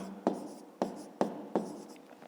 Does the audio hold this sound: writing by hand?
yes